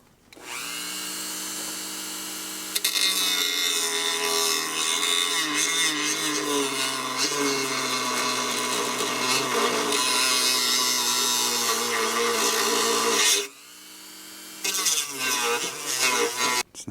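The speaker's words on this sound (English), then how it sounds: "So this is a plastic cutting wheel for the Dremel. We're going to try and run pretty slow." A Dremel fitted with a plastic cutting wheel, running slowly while cutting a notch in a motorcycle crash bar part, a sustained, high-pitched whine that shifts as the tool bears on the material, stops briefly, then resumes.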